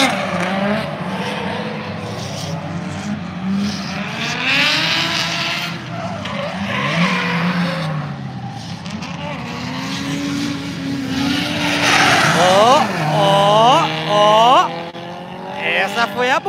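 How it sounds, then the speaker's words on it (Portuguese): Race cars idle around Tsukuba circuit on a cool-down lap at a T1000 summer festival, engines droning and swelling as they pass, with a quick run of tire squeals near the end and someone commenting throughout. "Aí o pessoal dá aquela voltinha agora, né? Pra dar uma esfriada no carro."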